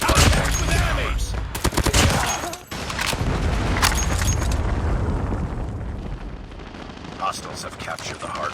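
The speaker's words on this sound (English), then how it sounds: "Predator missile inbound." In Call of Duty Mobile, a Predator missile strike and bursts of gunfire erupt close and loud, with rapid shots, heavy booms and a rumbling explosion tail fading over several seconds, while game voice lines sound over it.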